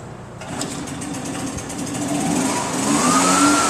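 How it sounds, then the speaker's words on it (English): A Husqvarna leaf blower engine starts up and climbs steadily in pitch as it begins driving a rotary drywasher, a buzzing two-stroke whine growing louder toward the end. "He's going to go ahead and start the engine. Any leaf blower will run it. We use the Husqvarna."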